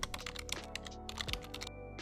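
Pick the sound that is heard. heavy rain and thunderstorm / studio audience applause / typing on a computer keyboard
typing on a computer keyboard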